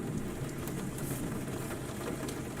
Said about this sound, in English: So the rain is actually coming right now.